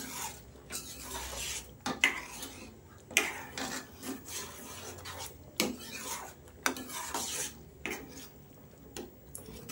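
A spoon scrapes and stirs a pumpkin mixture in a pan in a sequence of close, rasping strokes with occasional sharper clinks against the pan, irregular in rhythm and without talking.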